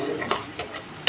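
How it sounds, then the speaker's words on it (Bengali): Spice paste with onion and garlic sizzles in a hot pan while being stirred; a short burst of steady frying hiss is broken by a few brief spatula scrapes close by. "তার মধ্যে আমি এই পেস্টটাকে দিয়ে দিচ্ছি। দিয়ে এবার ভালো করে কষিয়ে নেব।"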